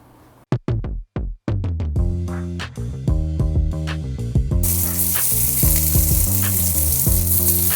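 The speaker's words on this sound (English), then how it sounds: "we're gonna heat up our skillet and get them seared" Vegan meatballs made with Impossible sear in a hot skillet. A few sharp taps open the clip, a tonal passage with tones like music follows, and a broad sizzle swells in the last few seconds.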